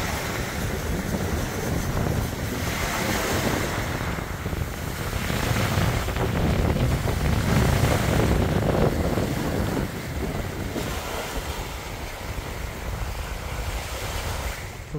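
Broad, rushing wash of ocean surf and wind at Hurghada, Egypt roars continuously, with swells rising and falling, buffeting the microphone and no voices.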